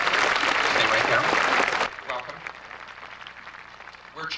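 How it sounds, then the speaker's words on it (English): A crowd claps loudly for almost two seconds, then the applause drops away and a voice begins speaking over faint room noise. "A nice round of applause for Sandra."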